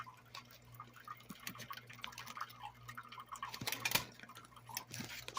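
Water from an aquarium filter trickles and drips steadily in a small room, faint and close, with irregular droplet splashes over a low constant hum.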